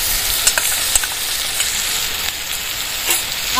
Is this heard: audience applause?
no